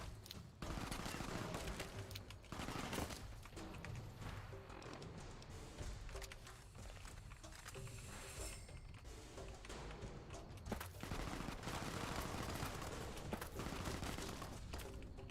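Heavy gunfire in the video game Fallout: New Vegas, with dense rapid bursts of shots and impacts firing almost without pause, loud and continuous throughout.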